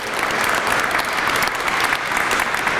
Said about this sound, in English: let's give all of our stakeholders another big round of applause